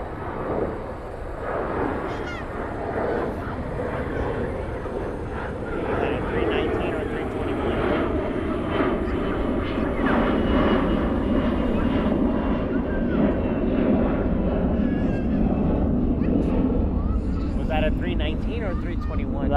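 An Airbus A321 airliner departs at golden hour from DFW airport, its jet engines roaring steadily and building loud and broad over the whole stretch.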